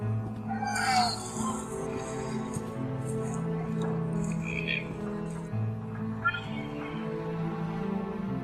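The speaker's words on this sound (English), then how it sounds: "I hear a cat meowing in the distance." A cat meows a few times, drawn-out and fairly faint, over a steady low humming background in the game The Last Door.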